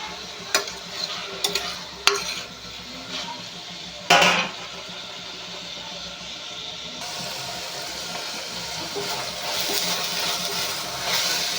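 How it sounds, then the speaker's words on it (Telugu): Onions frying in a pan for a chicken curry, a steady sizzle with a few sharp scraping clacks of stirring early on, then a quieter, even frying hiss near the mic. "ఉల్లిపాయలు అయితే ఫ్రై అయిపోతున్నాయండి"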